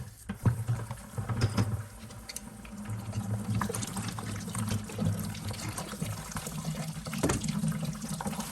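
Water runs out of freshly opened household plumbing lines during a water softener installation, splashing steadily into a bucket with a continuous gurgling pour and a few louder splashes.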